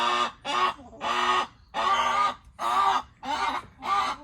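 Repeated loud, close clucking calls in an even rhythm of about seven bursts, with short pauses between them and no talking.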